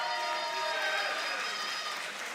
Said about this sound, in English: please give an appropriately lengthy cheer and round of applause